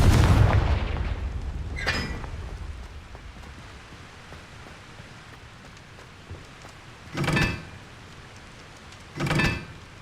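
The Confringo spell fires in the video game Hogwarts Legacy, opening with a deep, close boom that decays over about a second, followed later by two shorter, sharper bursts spaced a couple of seconds apart.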